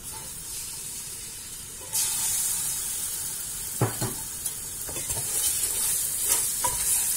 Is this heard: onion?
yes